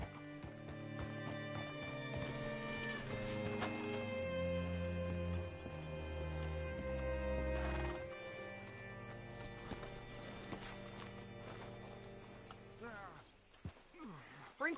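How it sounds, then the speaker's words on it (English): Horse hooves clop rhythmically in a Red Dead Redemption game scene, audible beneath a swelling orchestral score and spoken dialogue, with a possible whinny near the end. "Hitch your horse up here."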